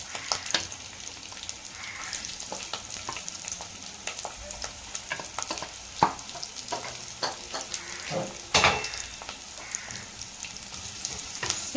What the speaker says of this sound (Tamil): பூண்டோட வெங்காயமும் சேர்த்து வதங்கட்டும்.